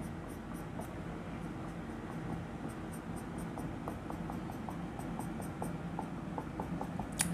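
A pen or marker scratches across a board in quick, faint strokes, a series of short ticks and scrapes while a DNA diagram is drawn, set against a steady low hum.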